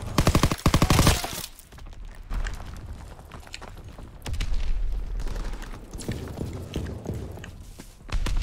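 Machine gun fire in a WW2 video game, with loud rapid bursts at the start and then repeated, irregular volleys of gunfire that continue throughout at close range.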